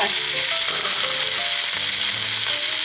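Meat sizzles and fries in a preheated pan, a steady dense hiss with faint crackles running unbroken and fairly loud throughout, no voices over it.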